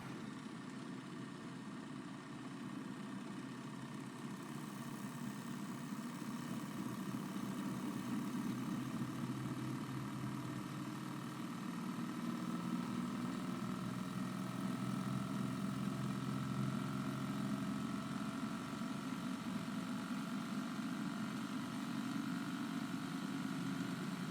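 A pulse motor spins at almost 1,000 RPM, giving off a faint, steady hum and whir that holds an even tone, with a slight rise partway through as the speed is turned up.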